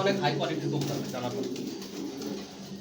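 Racing pigeons coo in soft, throaty burbles close by, layered under a voice talking throughout.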